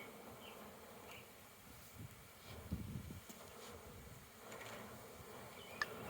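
Stressed honey bees hum low and steadily while a hive is split at an urban farm, a faint, sustained drone with a few small bumps of movement.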